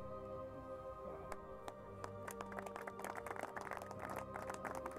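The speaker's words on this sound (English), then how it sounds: "You always worry slightly when the claps get louder as it goes along." Spectators clapping at an amateur golf tournament, the Championship of Worcestershire, scattered faint claps that grow into sparse applause, over a steady hum.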